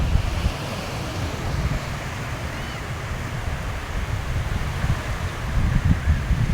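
Low, continuous rumble of sea waves along the shore, steady surf noise mixed with wind buffeting the microphone, with no voices.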